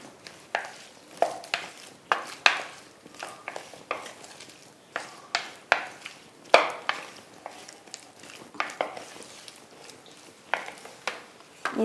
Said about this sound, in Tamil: இந்த ட்ரெஸ்ஸிங் எல்லாம் இதில் மிக்ஸ் ஆகிற மாதிரி நல்லா மிக்ஸ் பண்ணிக்கணும்